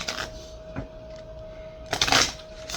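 Two short bursts of riffling cards, one at the start and a louder, longer one near the end, with a faint steady tone between them.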